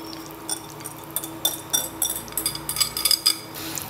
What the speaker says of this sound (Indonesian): Ini diaduk sebentar aja, pastikan menyatu dengan baik